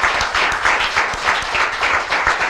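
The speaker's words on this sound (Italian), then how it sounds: "facciamogli un applauso, dopo la sentiamo." Applause from a crowd at a final event in Vittorio Veneto, a loud, dense clapping in close, rhythmic swells that continues throughout.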